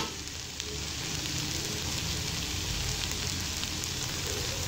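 Cooking oil sizzling over boiled potato slices in a pan for green chili potato katli, a steady, dense hiss and crackle throughout with no talk.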